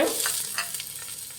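Carrot and other vegetables frying in hot oil in a pan give off a steady, soft sizzle, with faint scraping stirs breaking through now and then.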